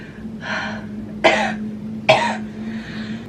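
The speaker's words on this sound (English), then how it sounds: "my cough has not gone away, and it's so annoying. It's so like dry cough." A few short, dry coughs, two of them sharp and abrupt, close up over a low steady hum.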